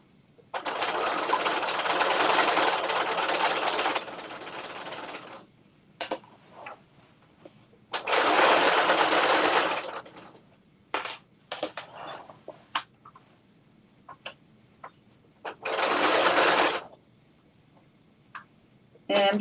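A sewing machine runs in short bursts of a few seconds each while stitching a 5/8 inch seam, with quiet pauses between runs filled by small clicks and handling noises.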